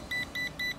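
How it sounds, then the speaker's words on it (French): Short, bright electronic beeps from a DFD F180 drone marking its fourth speed setting, evenly spaced in quick succession and standing out against a quiet, low background. "4 bips, quatrième vitesse."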